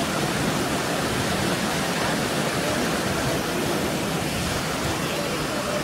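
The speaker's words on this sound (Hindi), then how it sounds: "इसलिए पानी की स्पीड और भी ज्यादा बढ़ गई है।" Floodwater pours through a breached canal in a broad, steady roar of rushing water, loud and close, unbroken throughout with no voices.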